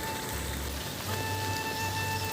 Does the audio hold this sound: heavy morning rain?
yes